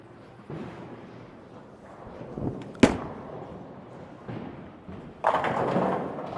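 Bowling ball striking pins in an alley with a sharp crash of the Storm Physix Blackout ball hitting the pins, preceded by rolling rumble and followed by a louder clatter and alley din.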